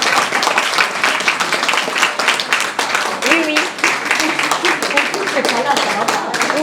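Audience applause at the opening of a children's book fair, dense continuous clapping from a crowd, fairly loud and close, with a few voices mixed in beneath it.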